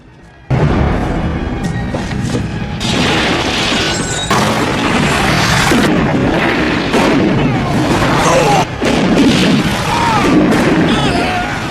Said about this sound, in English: A shootout begins.